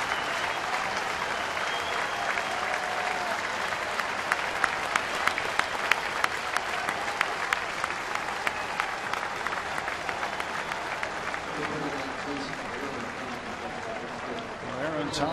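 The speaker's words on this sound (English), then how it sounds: "So Thompson, in his major league debut, gets a nice ovation." Baseball stadium crowd applauding a pitcher's major league debut as the Pirates play the Brewers, steady dense clapping and cheering throughout, with a commentator talking over it.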